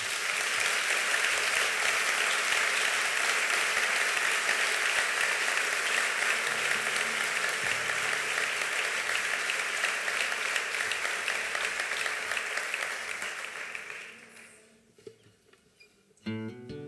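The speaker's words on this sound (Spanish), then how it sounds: "Un aplauso, por favor." Applause from a concert audience at a commemorative event in Berriozar, a steady dense roar of clapping for about fourteen seconds that fades out and then breaks off abruptly.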